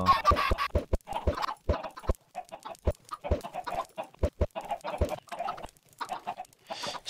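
Chickens in the video game Minecraft cluck in quick, uneven bursts, close by, with sharp clicky pops scattered among the calls.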